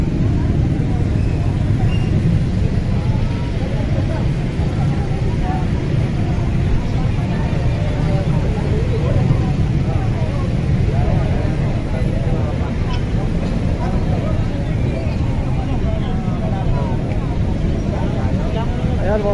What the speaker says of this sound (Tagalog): grabe na ang traffic dito sa Abacom